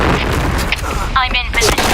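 A grenade goes off in the tactical shooter Insurgency Sandstorm, a loud, close, boomy blast buried in a dense wash of combat noise and gunfire, with voices shouting over the chaos.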